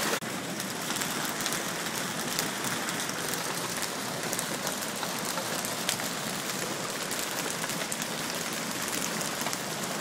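Hail pounds outdoors onto a garden and surfaces, a dense, steady patter of hard impacts with occasional sharper cracks continuing unbroken for ten seconds.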